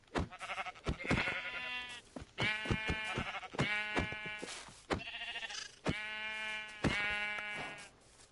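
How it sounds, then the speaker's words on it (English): A Minecraft sheep bleats repeatedly in the blocky game world, loud, clear, close wavering baas in quick succession, each one separated by short pauses, with no talking over them. "Sheep?"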